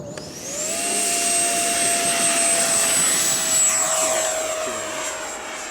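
A DJI Red Arrow model aircraft takes off, its electric motor spinning up into a loud, high, steady whine that holds as it speeds away.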